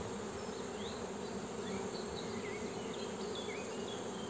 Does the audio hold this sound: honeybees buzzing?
yes